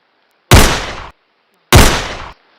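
Two loud gunshots ring out about a second apart, each a sharp blast with a short decaying tail, close and alone.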